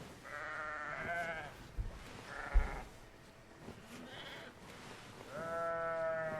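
Several sheep bleat in the video game Surviving the Aftermath, wavering calls in separate bursts with short gaps between them, heard against faint background sound.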